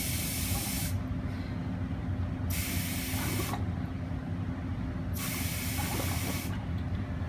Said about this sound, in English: It just starts bubbling in the bottle, and then as soon as I relax pressure, the water flows back in and refills the tube.